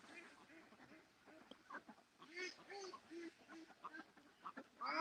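Ducks that keep heading for the water quack repeatedly in uneven bursts, close by and moderately loud, with a person talking over them.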